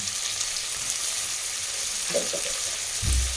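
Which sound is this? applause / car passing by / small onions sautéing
small onions sautéing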